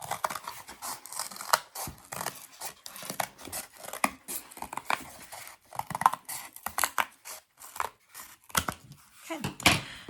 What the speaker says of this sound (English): The reason why I put it on the edge is so that way it's easier for me to cut, because cardboard is very difficult to cut.